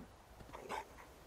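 A dog in the Fallout video game gives a brief, faint whimpering yip in the middle, set quietly against low background game ambience.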